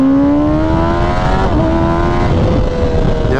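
A Kawasaki Ninja ZX-10R KRT Edition sportbike revs hard in first gear, its engine pitch climbing steadily, dipping briefly at a shift point, then rising again, loud and close over wind noise.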